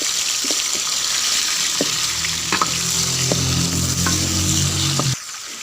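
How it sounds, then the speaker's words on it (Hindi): Chicken pieces drop into a pan of browned onions for a grandma-style chicken chana curry, and the pan fries with a loud, steady sizzle and crackle close up, stirring clinks over it, before the frying suddenly drops away near the end. "अब इसमें डालेंगे चिकन।"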